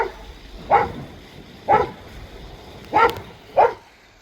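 A dog barks four times in separate sharp bursts, fairly close, with short pauses between each bark and a quiet background.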